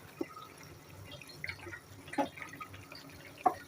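Hilsa fish head simmering with kochu in a home kitchen pot gets stirred: soft wet scrapes and a few distinct clinks and drips spaced across a few seconds, quiet and close, with no one speaking.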